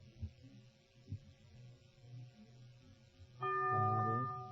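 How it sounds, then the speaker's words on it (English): Bell tolled on a 1949 radio-TV comedy game show: a sudden sustained ringing tone with harmonic overtones sets in near the end, fairly loud over a low background hum. "The bell is tolled."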